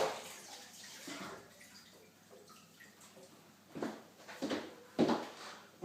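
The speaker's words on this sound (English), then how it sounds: "flip my board over. Just give this a quick rinse out" Running water rinses a cutting board after rabbit butchering, a steady splashing wash with a few louder bursts of water hitting the board toward the end.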